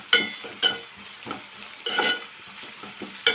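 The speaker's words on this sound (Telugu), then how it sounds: "కొంచెం కరివేపాకు వేద్దాం వేసి మగ్గనిద్దాం" Curry leaves and onions fry in a pan for an eggplant and coriander curry, giving a steady close sizzle broken by several sharp pops and crackles, with no talking.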